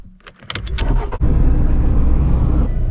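A car on the island of Kefalonia: brief clicks and a door thump, then a loud, steady engine rumble as it pulls away close by, with no talking.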